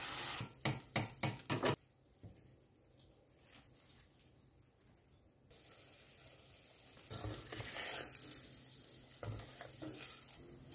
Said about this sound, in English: Start frying in a low heat until it turns into brown.